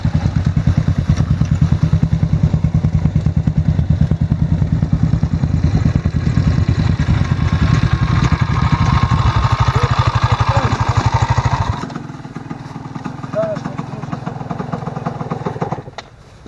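Enduro motorcycle engines idle loudly on a ride around Raška, Kopaonik and Golija, a rapid, rough clatter, then the rumble drops off and a quieter engine keeps running.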